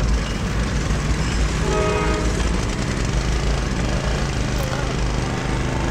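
A box stock race car engine at a dirt-track speedway starts up and runs with a loud, steady rumble, a close and continuous drone throughout.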